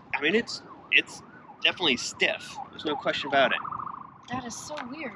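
A wailing siren rises and falls in the background while someone talks over it in the foreground.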